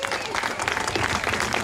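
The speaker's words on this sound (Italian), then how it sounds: "Quindi un applauso ai carristi del Golfo!" A festive crowd applauds carnival float builders at the closing day of Gaeta's 2020 carnival, brief dense clapping with voices and cheering mixed in, fairly close and loud.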